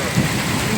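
A brief burst of heavy rain gives a dense, even hiss at close range, with a faint low thump near the start.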